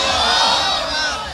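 At a religious gathering, a large crowd roars a takbir chant in one loud, swelling shout that peaks and then trails off.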